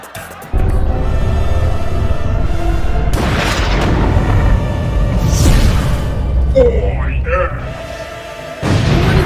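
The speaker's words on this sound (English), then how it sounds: "Why is all these explosions?" Heavy booming blasts rumble in succession, loud and close, with whooshing bursts between them and a brief pause before the roar resumes.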